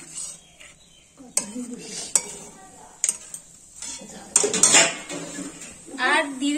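Leaf paste with salt cooking in a pot on a stove, with clinks and scrapes of a spoon against the pot and a faint sizzle running between the strikes.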